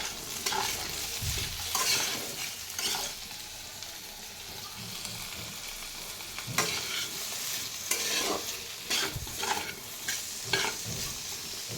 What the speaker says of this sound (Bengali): এই যে পেঁপেটাকে ভাজতে বসাইছি